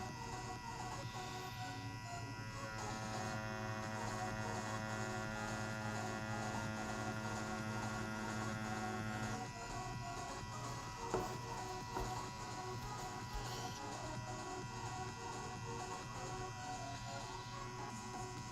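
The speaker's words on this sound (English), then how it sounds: "Maybe we should slow down the machine." Tattoo machine buzzing steadily while working on practice fake skin, a continuous close electric hum throughout, its tone shifting partway as the speed changes.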